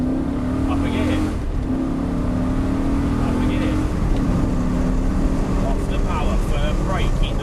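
A Lamborghini Gallardo supercar accelerates hard on a driving-day circuit at Aldershot, its engine note rising steadily through the gears and dipping at each change, loud and close throughout, with voices briefly heard.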